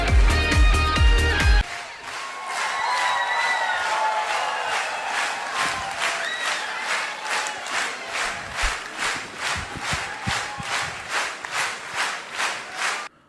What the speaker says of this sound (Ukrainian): А от виконання е, української пісні шоуменом зірвало справжні овації в залі.